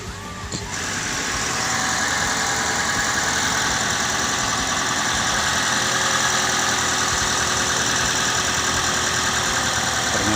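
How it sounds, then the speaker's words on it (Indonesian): A car engine running steadily at idle after a weak, failing battery was revived and the engine cranked into life, a loud continuous rumble with faint knocking that holds evenly throughout, no voices. "mesin menyala."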